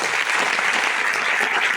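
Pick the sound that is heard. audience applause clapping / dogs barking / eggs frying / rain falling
audience applause clapping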